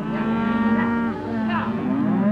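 Cattle on Easter Island give a long, loud moo that fills the whole moment, a steady voiced call with rising and falling pitch and no talking.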